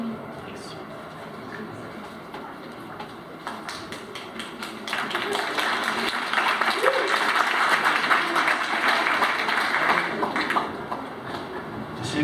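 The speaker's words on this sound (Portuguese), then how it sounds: "É sempre bom ter alguém para puxar as palmas" An audience applauds a speaker at a talk on urban property law and city statutes, steady hand clapping that swells midway and stays fairly dense, heard alone without talk.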